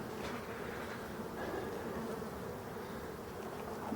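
Honeybees on an orientation flight outside a hive in Brittany protected by a strawberry netting, a continuous, dense buzzing swarm hum that holds steady and fairly soft throughout, with no voices.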